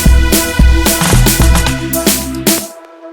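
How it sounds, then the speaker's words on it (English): A drum roll introducing a pre-chorus in an Afrobeats-style production plays over a full, dense mix, with rapid hits building before cutting off abruptly into silence. "the pre-chorus, I added this drum roll."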